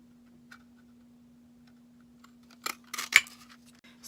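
A few sharp crisp clicks and crunches, close up and quiet, as a punch snaps through paper after a stretch of near silence.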